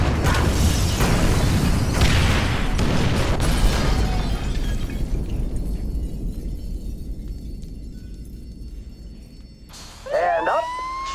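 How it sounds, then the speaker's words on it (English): Incendiary charges detonating in Grand Theft Auto 5: a loud, dense blast with crackling debris that slowly fades over several seconds, then a wailing emergency siren rises near the end. "Detonate the incendiaries, Frank."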